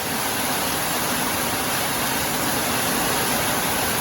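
Heavy monsoon rain in Udupi, Tulunadu, pours as a loud, dense, unbroken hiss, steady and close with no pauses.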